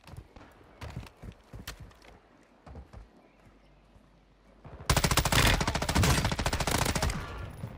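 Rifle fire in the video game Warzone: scattered single shots and footsteps at first, then a sudden loud, rapid automatic burst that runs for several seconds.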